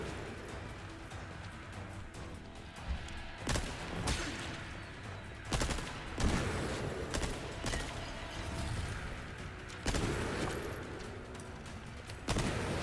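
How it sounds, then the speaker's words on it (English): Video-game gunfire from a TMP and a pistol aimed at a boss in a Chicago Sweeper run: a busy, continuous stream of shots with sharper, louder bursts every few seconds, heard without any talking. "Just basically take him down with the TMP and with your pistol"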